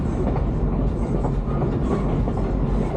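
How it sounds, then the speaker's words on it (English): A Nevada Northern Railway passenger car rolls along with a continuous rumbling clickety-clack of wheels on rail joints, steady and fairly loud throughout with no talking. "Clankety clank of the train. Clickety clack, not clankety clank."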